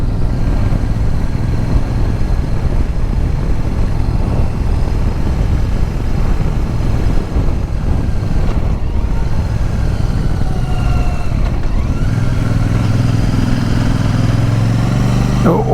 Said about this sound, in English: I hope you can hear the thrum of this here parallel twin. Even with these stock exhausts, it's got a very satisfying rumble to it.